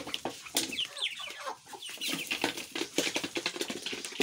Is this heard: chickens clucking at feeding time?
yes